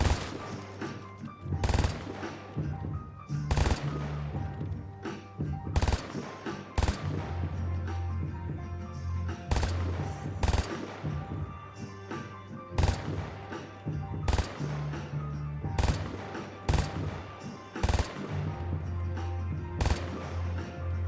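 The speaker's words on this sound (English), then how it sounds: "Here's the new and improved MG3." An MG3 machine gun fires in a video game, heard as repeated loud bursts of rapid automatic gunfire in a steady broken rhythm across the whole stretch, close and punchy with short gaps between bursts.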